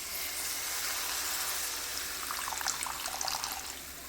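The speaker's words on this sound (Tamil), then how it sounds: "தண்ணி உங்களுக்கு எவ்வளோ தேவையோ அவ்வளோ ஊற்றிக்கலாம்" A steady stream of water pours into a cooking pot for fish curry with a continuous rushing hiss, splashing a little more toward the end.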